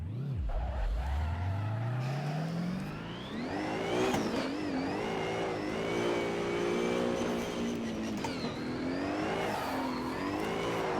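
A car drifts with the e-brake in the Assetto Corsa racing sim at FD Long Beach, its engine revving up and down in long sweeping tones while tires squeal steadily, loud and continuous without talk.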